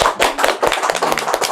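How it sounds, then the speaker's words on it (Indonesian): A podcast audience claps for an arriving guest in a short, lively burst of many hands, close and loud, lasting under two seconds. "Oke, tepuk tangan dong, Mas Bo."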